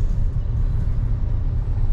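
Heavy road traffic in Chennai rumbles steadily nearby, a dense low engine drone from cars, buses and trucks with no distinct horns or voices.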